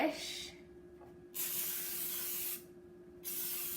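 Two or three short hissing bursts from an aerosol cooking spray can onto a baking dish, close by, with quiet pauses between sprays.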